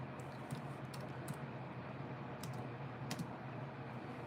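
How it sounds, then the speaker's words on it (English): Quiet, scattered keypresses on a computer keyboard as numbers are typed in, with irregular clicks over a steady background hum and no speech. "I'm typing them in and I'm going to plug them in"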